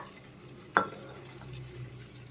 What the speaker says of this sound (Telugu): ఇదంతా బెల్లం కరిగేంత వరకు బాగా కలుపుకోవాలి ఇలాగా